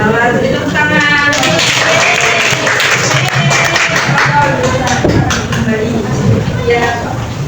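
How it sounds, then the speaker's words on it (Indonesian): A classroom of students claps hands during a guided teaching practice lesson, with brisk, close claps mixing with lively voices and chatter throughout. "lanjut tepuk tangan"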